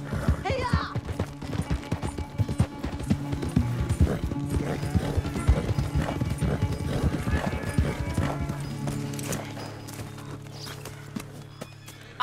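Rapid hoofbeats of a horse galloping in a race in Red Dead Redemption 2, loud and rhythmic, with a whinny and other game effects layered over the thudding clip-clop.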